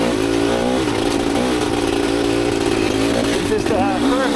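An enduro dirt bike revs and drones steadily throughout, its engine note loud and close with shifting pitch, while some wind and a voice or background noise may sit underneath.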